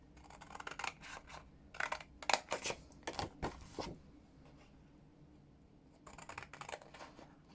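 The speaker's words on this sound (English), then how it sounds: "cut up all of these to the first score line, and then you'll do the same with these." Scissors snipping through craft card along score lines for a hexagonal box, a series of close, crisp cuts in short clustered bursts, a pause, then a few more snips in a quiet room.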